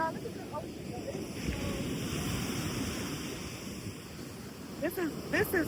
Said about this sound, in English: Y'all, look at the ocean.